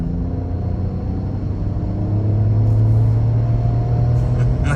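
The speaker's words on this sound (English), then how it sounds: "we're gonna get on the highway one more time in the Bronco Sport and see how this thing drives" A 2021 Ford Bronco Sport SUV with a three-cylinder engine cruises on a highway, a steady low cabin rumble and engine drone that swells slightly partway through, road noise constant and no one talking.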